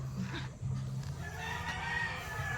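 A kelso rooster, a gamefowl kept for breeding, crows once in a drawn-out call that rises and trails off, fairly close, over low background noise on a farm.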